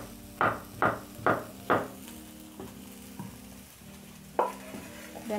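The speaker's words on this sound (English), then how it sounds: "So I'm cooking my veggies with very little oil." Potatoes, carrots and zucchini fried in very little oil in a pan, with four loud rhythmic stirring scrapes early on, a low sizzle underneath, then a few softer scrapes and knocks, with no talking.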